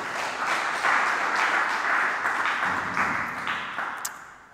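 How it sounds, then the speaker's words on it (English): Conference audience applauding after a speaker is introduced at a firmware and boot software event, a sustained crowd clap that stays even and fairly loud, then thins out near the end with a faint ping. "So give a round of applause for Paul Kocialkowski."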